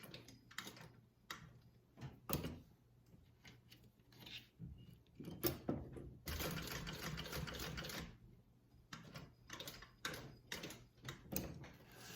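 Sewing machine stitching a strap end onto a strap adjuster for a range bag, running in short bursts of rapid mechanical ticking with a longer steady run in the middle and pauses between.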